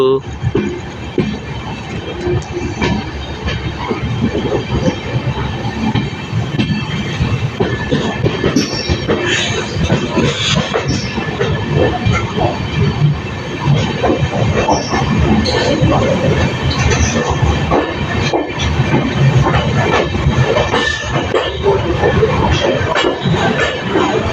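Train 20604 rolls into platform 2 at Madurai Junction with a steady loud rumble, wheel clatter and faint squeals, heard from the platform amid a busy crowd and people talking.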